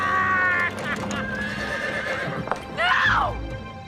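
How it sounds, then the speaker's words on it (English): A horse neighs loudly amid clip-clopping hooves and other noise, with a second shrill whinny near the end. "It's Champion the Wonder Horse!"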